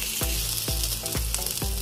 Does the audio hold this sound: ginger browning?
yes